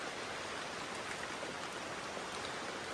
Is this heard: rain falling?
yes